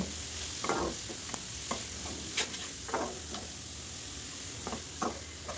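Mung dal, masoor dal, rice and potatoes fry together in a pan for Bengali khichuri, a faint steady sizzle punctuated by occasional soft scrapes of stirring, quiet and without voices.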